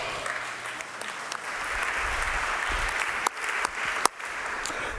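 A festival audience at LAUNCH Festival 2016 claps in sustained, dense applause that holds steady throughout, with a few sharper claps standing out near the end.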